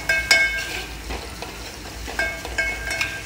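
Turmeric is stirred and roasted in a pan with a soft sizzle underneath, punctuated by a few sharp metallic clinks and scrapes of a spoon against the vessel.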